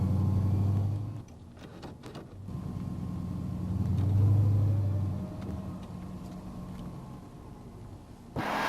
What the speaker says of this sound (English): let's road test the vehicle to see if the transmission is in good working condition